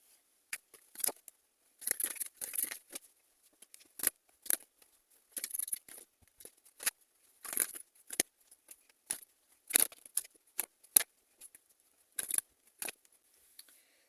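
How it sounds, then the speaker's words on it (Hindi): Tarot cards are shuffled and drawn in a quiet room, making crisp, papery snaps and flicks in short, irregular bursts separated by near silence. "चलिए कार्ड्स लेते हैं।"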